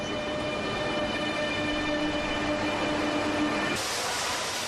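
An AVE high-speed train passes in Zaragoza, a loud, steady rushing rumble of wheels on rail with a thin sustained squeal, holding constant before cutting abruptly near the end, with no voices.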